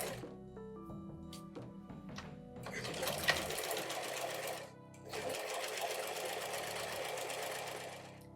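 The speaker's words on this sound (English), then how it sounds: "I'm going to do some back stitching along here" A sewing machine fitted with a walking foot back-stitches along the seam of a cathedral window tote bag, a close mechanical whir in two sustained runs separated by a brief pause, with soft clicks and thunks before the first run.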